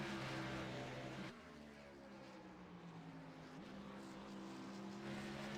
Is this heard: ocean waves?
no